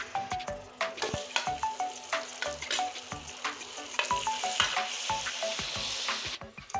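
Chopped tomato hits hot oil already holding fried ginger, garlic and dried chilli and sizzles loudly up close. Quick, rhythmic spatula scrapes and metallic clinks sound against the pan, with no talking.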